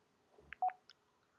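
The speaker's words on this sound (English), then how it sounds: "that's a phone call I need to hang up on" Telephone keypad tones sound as a phone call is ended, a few short beeps clustered near the middle of a quiet moment, fairly close and distinct against faint background hum.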